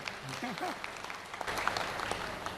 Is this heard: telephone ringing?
no